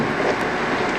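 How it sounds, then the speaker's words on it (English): Strong wind roars steadily near a tornado in southern Kansas, a dense, loud, unbroken rush of wind buffeting the microphone for a brief moment with no talk. "Listen to the wind"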